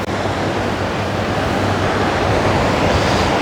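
Ocean waves washing ashore at Del Mar Beach: a continuous, loud broadband surf roar with steady rushing texture and some wind, no voices.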